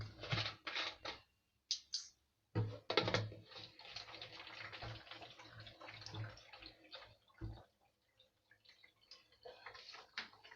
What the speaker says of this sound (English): we will fill the bottle with water